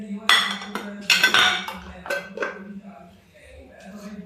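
A spoon clinks and scrapes against a bowl while bell pepper pakora batter with green chilies is mixed, in short irregular bursts. A voice talks partway through.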